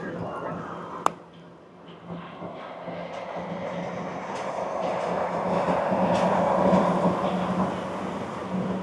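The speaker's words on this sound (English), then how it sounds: "Monorail." Disneyland monorail train passing on a summer day, a steady rising rumble and hiss that swells toward the middle and holds, with a sharp click near the start and faint crowd voices in the background.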